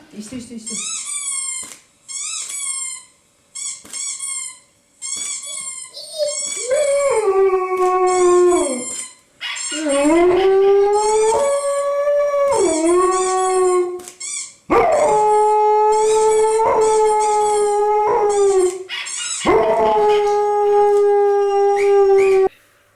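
A dog howls at a photo shoot, repeated long rising and falling howls, loud and close, broken by short yips, with no talk over it.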